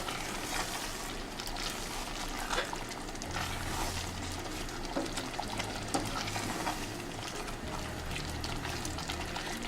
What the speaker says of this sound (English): So you mix everything together.